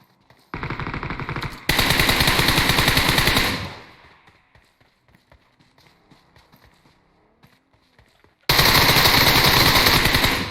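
Rapid automatic gunfire in a one-man-squad shooter video game, loud sustained bursts of about a second and two seconds, then a quieter lull of faint scattered game sounds before another loud burst starts near the end.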